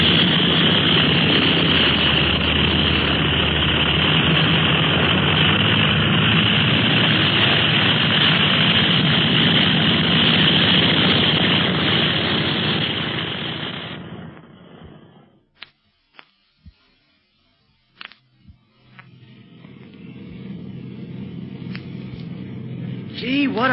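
Loud, steady aircraft engine drone fills most of the clip, then cuts off abruptly, leaving quieter clicks and softer engine noise.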